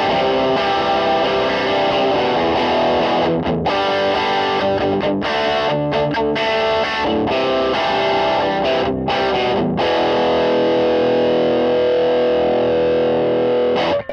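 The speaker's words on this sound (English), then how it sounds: "My main sort of overdrive sound, the Dirty Little Secret." Electric guitar played through a Dirty Little Secret overdrive pedal, with loud gritty distorted chords and riffs ringing continuously and brief choppy pauses between phrases, with no talking.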